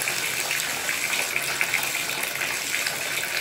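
Tap water gushes steadily into a bathtub being filled for a kitten's bath, a continuous close hiss and splash with no voices.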